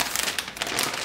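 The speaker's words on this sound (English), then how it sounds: "Just peel the plastic off." Plastic wrap being peeled off an Apple HomePod box, a close, brief crinkling and crackling of thin film lasting about a second, with no talk.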